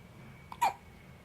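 A baby lying on a playmat gives a single short, soft hiccup, close by over a quiet room hum, with no talking.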